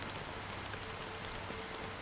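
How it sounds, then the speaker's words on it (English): Rain falls steadily in a scene from the Honkai: Star Rail video game, a soft, even patter of drops spread evenly across the short stretch with no talking. "But it's still raining."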